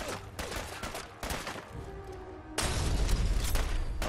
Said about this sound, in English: you get some shots on Longfellow if you want